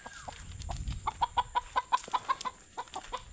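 A chicken clucks in a quick series of short, clear calls, close by, over a faint rustling outdoor background.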